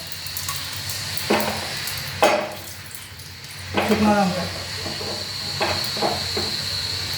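Cumin seeds and two dried red chillies drop into hot oil in a pan, giving a steady hiss and sizzle with a few louder bursts as the spices go in, and a faint voice speaks at times.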